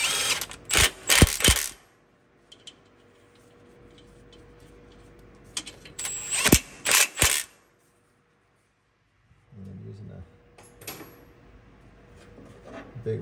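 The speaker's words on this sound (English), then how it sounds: "Big ratcheting wrench there." A big ratcheting wrench turning the double-nutted head stud nuts on a Detroit diesel engine: several bursts of sharp metallic clicks separated by quiet gaps, close and crisp, followed by a short low clunking near the end.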